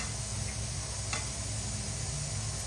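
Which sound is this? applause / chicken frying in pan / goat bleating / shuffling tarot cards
chicken frying in pan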